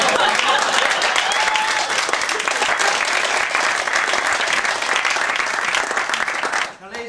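Audience applause at a live stage show, loud dense clapping sustained for several seconds before fading out abruptly near the end.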